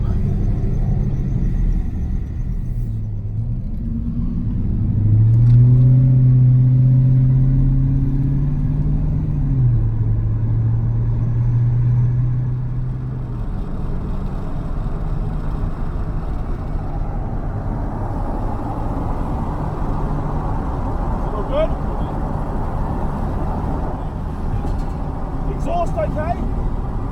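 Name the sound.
race car driving with repaired exhaust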